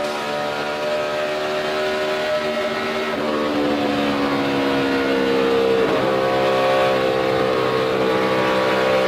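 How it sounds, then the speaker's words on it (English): NASCAR race car engine at a Texas race, throttle worked while coming off a corner, a loud continuous roar with shifting pitch that stays strong and steady, with no talking. "Here you're still having to work that throttle coming off the corner, though."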